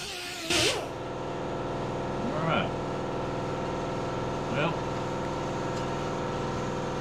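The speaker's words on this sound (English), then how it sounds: "So it's starting to knock the high spots off with that green pad." A power tool fitted with a green abrasive pad smooths a race boat propeller, making a constant motor whine with a few brief rises in pitch where the pad bites.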